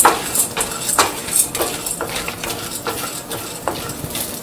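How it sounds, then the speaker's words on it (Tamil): Chana dal tipped into hot oil in a pan and stirred, with light sizzling and repeated metal spoon scrapes against the pan, close and fairly loud, no voices. "இப்ப நம்ம கடலை பருப்பு ஆட் பண்ணிக்கலாம்."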